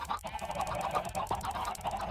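Minecraft chickens make rapid, nasal, honking clucks in a steady stream of repeated calls, fairly close, with no talk.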